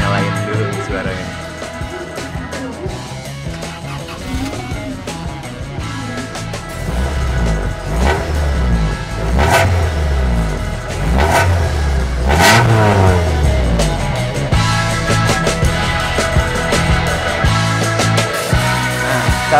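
A 1993 Honda Civic Estilo hatchback with a 1600 cc engine starts and idles, then revs loudly in several rising and falling pulls, heard up close.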